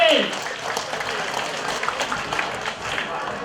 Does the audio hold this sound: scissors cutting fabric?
no